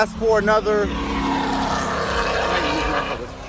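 A loud engine drones and roars past close by, rising and falling in pitch, with someone speaking briefly at the start over it.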